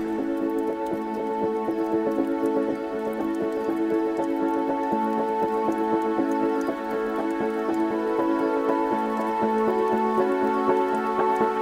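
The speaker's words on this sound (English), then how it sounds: "It's actually raining as well." Steady rain falls in Australia's Red Centre, a constant even patter that runs without a break throughout. A tonal hum of a few stable notes sits under the rain. Nobody speaks.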